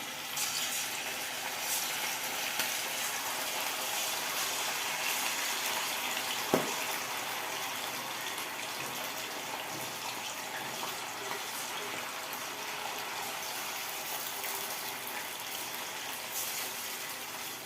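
Chicken pakoda fries in oil over a low flame, a continuous even sizzle that holds steady throughout with a single brief tap partway through and no talk.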